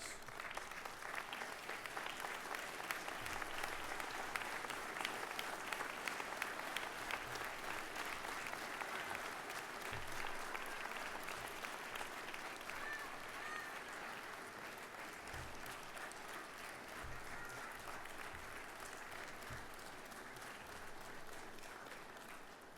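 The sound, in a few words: applause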